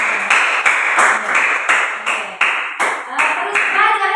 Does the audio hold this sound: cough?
no